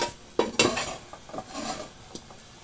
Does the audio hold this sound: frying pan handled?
yes